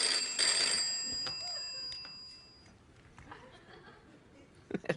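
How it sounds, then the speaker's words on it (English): A telephone bell rings in a studio setting, bright repeated trills strongest at the start, then fading into quieter background noise with a couple of brief knocks near the end. "phones ring."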